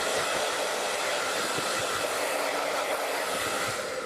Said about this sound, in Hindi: ड्रायर का नोज़ल हटा देना है, उसके बाद से आप फिंगर ड्राई करेंगे